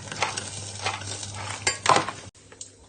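Garlic, shallots and chili being stirred as they fry in oil, a steady close sizzle with spatula scrapes against the pan, no voices, cutting off abruptly near the end.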